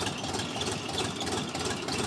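A DTZ 354U tractor engine, still being run in while digging potatoes, idles with a steady, continuous diesel chug and rumble, close and fairly loud throughout with no talking.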